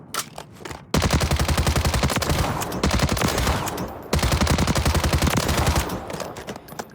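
Sustained automatic fire from a Bruen Venom assault rifle in Warzone 3, rapid close bursts of dense rattling shots with a brief pause between long volleys.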